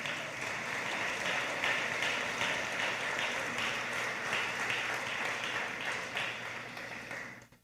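A church congregation claps and applauds together in worship, a dense and steady wash of hand claps that holds for several seconds before tapering off at the end.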